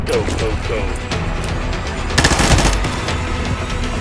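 Rapid automatic gunfire bursts from the video game Combat Master, loud and close, with a heavier flurry of shots near the end and a voice speaking over the action.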